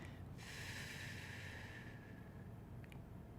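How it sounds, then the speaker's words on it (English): A deep breath is drawn in and then blown out slowly through pursed lips during a calming breathing exercise, a soft airy hiss that fades near the end, with no talking. "taking good deep breaths, really lowering that diaphragm deep in the belly, that you're feeling that inhale, and then blowing it out through pursed lips"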